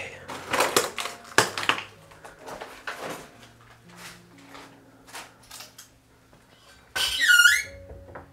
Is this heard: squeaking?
yes